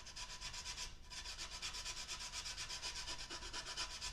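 Continuous rhythmic sanding of a rough curved shoe heel, close and fairly quiet, a steady rasping rub repeating in even strokes with a brief pause near the start.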